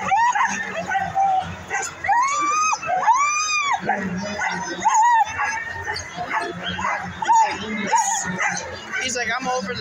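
Sled dogs behind the start line of the Copperdog 150 race in 2023 bark, yip and whine close by in excited bursts, with people talking among them.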